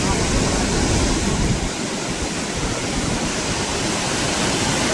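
Hogenakkal waterfall in Tamil Nadu roars as a steady, loud, close wash of falling water, with constant broadband rushing and no pauses.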